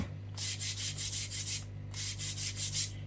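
Gentle rubbing of a napkin onto a candle coated with Mod Podge: soft, rhythmic swishing strokes, about six in a row, then a short pause and another run, close and quiet with no talking.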